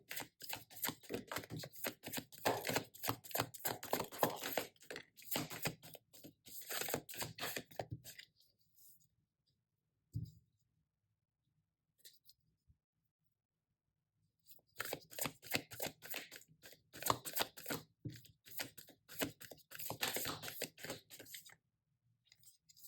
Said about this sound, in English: Now I'm going to pull just a few cards to see what could support you right now.